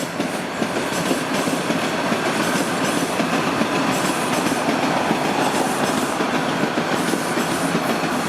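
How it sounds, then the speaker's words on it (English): A Toronto subway train passes close by in the evening, a loud, steady rumble of wheels with a rhythmic clickety-clack that runs the whole time without any voices. "Hey, there's this train."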